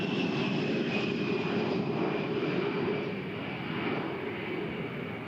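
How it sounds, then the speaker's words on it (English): An A-10 Thunderbolt II jet makes a pass over the airfield at an air show, its loud, steady engine roar filling the air before easing slightly toward the end, with no voices. "So as the A-10 continues its passes over the airfield"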